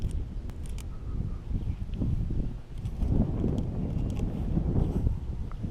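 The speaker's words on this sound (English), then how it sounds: "A little bit of a wind coming out my back." Steady wind buffeting the microphone at an RC plane flying field on a windy March day, a continuous low rumbling roar with gusty swells and no speech.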